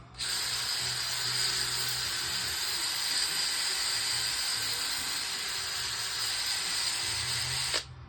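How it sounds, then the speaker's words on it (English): A power sander fitted with a regular sanding disc whirs steadily at a high pitch with a hissing abrasive grind on a wheel rim's clearcoat, running continuously before cutting off near the end. "Let's try a regular sanding disc."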